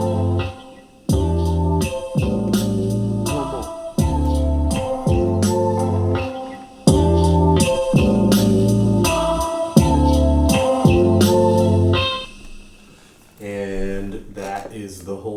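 Electric guitar run through a Line 6 HX Stomp and a Roland P-6, played out of a small Soundcore Bluetooth speaker: steady rhythmic chords in loud repeated bursts with brief gaps, thinning to sparse notes near the end, no talking.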